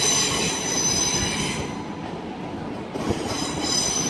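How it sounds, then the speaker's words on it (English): A British Rail Class 350 electric multiple unit passes at London Euston on the West Coast Main Line, its wheels squealing loudly and steadily on the rails with a rumbling carriage roar throughout, close by and alone. "That's a very dirty train."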